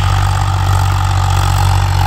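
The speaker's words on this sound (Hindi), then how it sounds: "तो प्योर स्वराज वाली आवाज़ है जी" A Swaraj 843 XM four-wheel-drive tractor runs loud and close, its diesel engine holding a steady deep throb with a constant low rumble and no voices.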